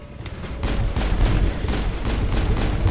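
Pistol fire during a fight in the Mass Effect video game. About eight sharp, evenly spaced shots ring out loud and close over a low rumbling backdrop, with no speech.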